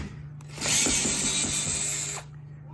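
A door knob's screws are backed out with a tool, giving a close, steady whirring, ratcheting mechanical burst that lasts about a second and a half between short quiet stretches.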